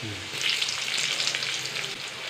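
Steady, close hissing and sizzling of two dried red chillies frying in hot oil for a tempering, with no voices.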